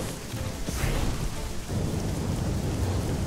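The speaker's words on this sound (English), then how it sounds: "Oh, thunderstorms." Thunderstorm in the dinosaur survival video game ORIONPrelude Dino Survival: steady heavy rain with deep rumbling thunder rolling underneath, dense and continuous from start to finish, with no talking.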